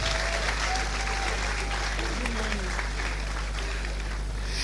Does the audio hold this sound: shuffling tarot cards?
no